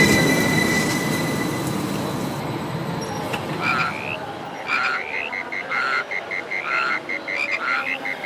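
A train arrives at a station, its rumble and long metallic wheel squeal fading down, giving way to rhythmic frog croaks and insect chirps at night.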